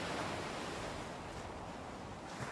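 Ocean water churning after the sinking of the Britannic in a PCVR game on Quest 3: a steady, close, broadband wash of surf-like noise with no voices, holding even throughout.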